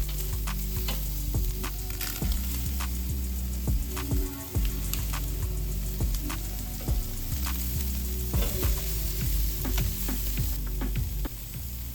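Marinated chicken thighs with sugary honey marinades sizzle loudly on a grill, a dense close crackle and hiss with scattered pops and occasional tong scrapes, no voices.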